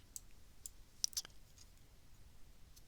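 Two quick, faint clicks of a computer mouse at a desk while drafting storm pipes in Civil 3D, close and isolated against quiet room noise.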